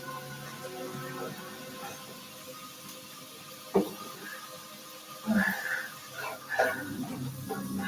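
A pet dog makes a few short barks in a home kitchen where one-pot paella pasta with chorizo and raw chicken is being cooked, rising over a steady background of cooking and running-water noise.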